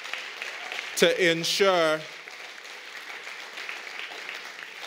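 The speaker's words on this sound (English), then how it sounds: "you should give a round of applause to the parents and the administration and the teachers" An audience applauds at a school graduation and award ceremony with steady, moderate clapping throughout. A speaker's voice briefly rises over the clapping near the start.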